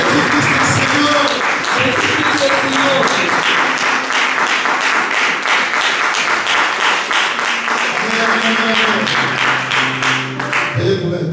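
A church congregation applauds and cheers loudly and steadily at a Sunday worship service, dense continuous clapping that holds throughout, with voices calling out over it.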